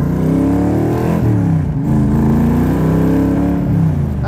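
A 1965 Cobra GT replica's engine revs on the throttle, a loud, steady mid-pitched roar that rises and falls in pitch as the pedal is worked, close up and with no talking.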